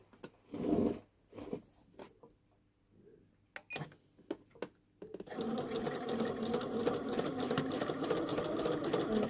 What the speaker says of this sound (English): we will top stitch from the right side about a few millimeters from the sewing line